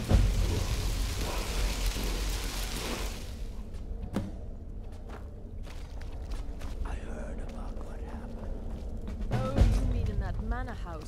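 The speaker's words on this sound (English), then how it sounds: "During the thunderstorm?" Thunderstorm in Skyrim: heavy rain hisses loudly for the first few seconds, then drops away to a quieter backdrop with scattered crackles and thuds while people talk.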